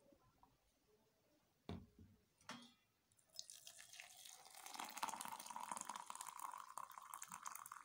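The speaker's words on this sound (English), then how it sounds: "I'll now add hot water." After a couple of soft clinks, hot water pours steadily into a glass with hibiscus flowers, the stream rising in pitch as it fills, close and clear.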